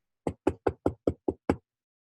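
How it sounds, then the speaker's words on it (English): Seven quick, sharp knocks on a hollow box, evenly spaced and close by, then silence. "She rapped on the box."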